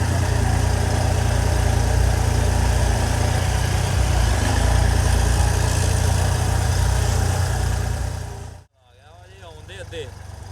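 A tractor engine runs close by in a soft farm field, a steady low rumbling drone that holds for about eight seconds before cutting out abruptly, leaving faint background sounds.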